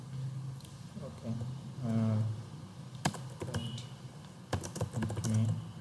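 Code is typed on a computer keyboard in sparse bursts of sharp, close key clicks, with a faint voice and low hum in the background.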